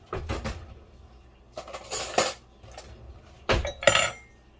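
A metal fork clinking against dishes in a kitchen while making lasagna: a handful of sharp, bright clinks and clatters in short clusters, close up, with quiet gaps between.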